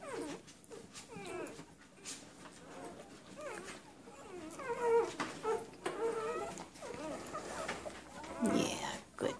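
A mother dog whimpering and making whiny, pig-like vocal noises close by, in uneven bursts over about nine seconds, with a person's voice faintly mixed in.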